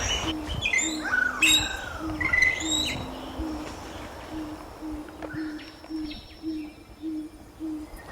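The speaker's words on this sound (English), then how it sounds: "Enjoy the soundscape of Tonga" Outdoor nature soundscape of Tonga with birds: repeated low, soft cooing hoots pulse steadily throughout, while sharp whistled chirps and calls overlap early on, all over a constant hiss of ambient background.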